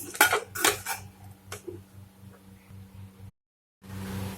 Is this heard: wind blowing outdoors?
no